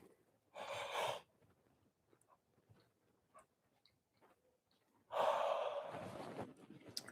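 A deep yawn to close a fascia-based movement routine: a short breathy exhale first, then a long, loud, drawn-out yawn that trails off, with faint clicks in the quiet gap.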